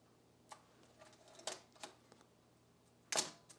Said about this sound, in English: but the camera will fire